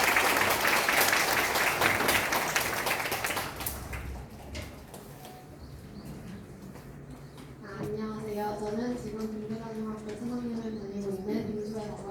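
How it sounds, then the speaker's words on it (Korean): An audience at a workshop applauds to welcome a third-year student speaker: dense, loud clapping for about four seconds that fades into room noise, then a voice begins speaking. "박수 많이 주세요"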